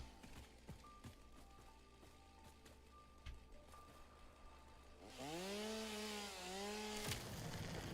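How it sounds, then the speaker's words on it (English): Chainsaw in the video game Satisfactory revving up loudly after a quieter stretch of game ambience, its engine pitch rising and dipping in waves for several seconds, with a sharp hit near the end. "Where's my chainsaw at?"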